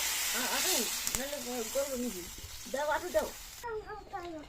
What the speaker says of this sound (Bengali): মশলাগুলো ভালো করে কষানো হয়ে গেছে, তো এখন আমি জল দিয়ে দিচ্ছি